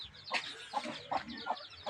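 Chicken clucking nearby, a series of short repeated clucks in quick succession with no talking.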